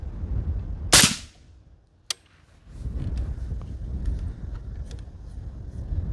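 A PRI MK12 .308 rifle fired through a suppressor gives one sharp, loud crack followed by a short decay, then a faint second click, with quiet outdoor background noise around it.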